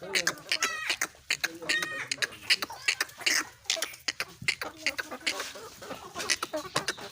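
Chickens and roosters cluck and squawk in short, busy bursts as they are fed in a small farmyard mini zoo, close and lively, with a voice speaking over them at times.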